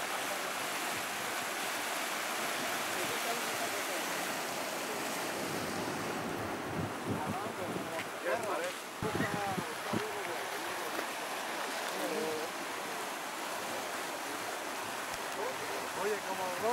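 Rushing floodwater of the Valdeladrones river, a swollen tributary of the Guareña near Guarrate, roars as a steady broadband wash throughout, with wind buffeting the microphone and brief voices partway through.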